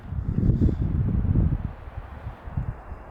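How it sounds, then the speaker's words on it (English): Wind gusting through swaying mountain trees in Idaho, heard as a steady low rumble with buffeting against the microphone, strongest in the first half and easing slightly later. "As you can see, the wind is really blowing. Trees are really swaying."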